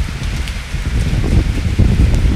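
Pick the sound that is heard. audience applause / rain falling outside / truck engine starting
rain falling outside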